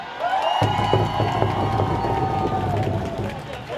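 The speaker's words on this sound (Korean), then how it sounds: "우리 저 선수들하고 코칭 스텝에 박수 한번 보내주세요" Crowd of baseball fans at the Doosan Bears' 2018 regular-season finale cheering and applauding the players and coaching staff, a loud sustained roar of voices and clapping that swells in after a brief quiet start.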